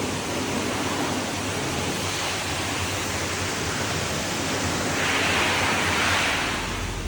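Truck wash spraying down a long-haul truck: a loud, continuous broadband hiss of high-pressure water that swells slightly near the end, with no voices.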